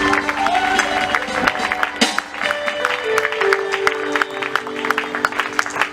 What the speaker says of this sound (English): Keep clapping, celebrate grace